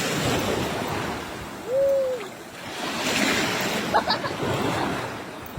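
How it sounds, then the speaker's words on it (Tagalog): Surging sea waves wash in a broad, continuous roar, swelling and receding, with a brief tonal squeak partway through. "ang lakas ng alon. Dinadala na ako."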